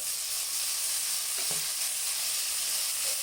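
Vegetables and tomato softening in a hot pan for Tamil bisibelabath, a steady bright sizzle with a brief stir knock midway, close and continuous with no talking.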